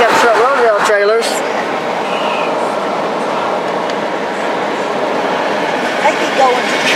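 A BNSF military train made up only of truck road-rail trailers rolls past with a steady, broad rumble that holds for several seconds, a voice talking briefly over it at the start.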